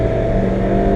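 Engine of a 2017 Fiat 124 Spider Abarth holds a loud, steady high rev, a dense continuous drone heard up close with no talking.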